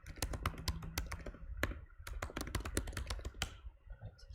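Rapid typing on a computer keyboard during a live coding session, with close, crisp key clacks in quick bursts and a short pause midway, no voices.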